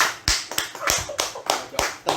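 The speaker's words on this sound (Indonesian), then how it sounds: "tepuk tangan dulu kali ya buat malam ini ya" Short bursts of applause from a small group at an evening event, a few hands clapping in uneven clusters with brief pauses between them, moderately close.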